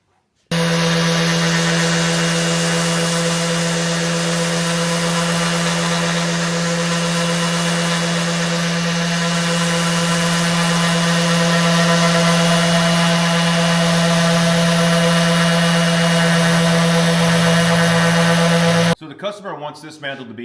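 Steady, continuous sanding on a wooden mantle with a constant machine hum underneath, close and loud, running unbroken before cutting off near the end.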